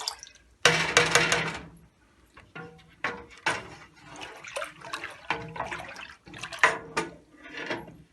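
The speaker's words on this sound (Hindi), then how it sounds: "इसमें और थोड़ा सा पानी डालेंगे, यानी तकरीबन 1 कप पानी और चला गया इसमें।" Water splashes and gurgles into a cooking pot for kadhi pakora in a series of uneven pours and drips, close and fairly loud, with short pauses between bursts.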